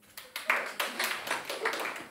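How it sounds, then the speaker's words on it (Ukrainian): Sparse, scattered clapping from a small stand-up comedy audience, a few separate hand claps in an uneven rhythm, fairly quiet, with faint murmuring. "Дуже скупі оплески."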